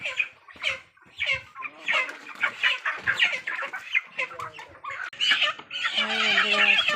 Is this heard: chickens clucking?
yes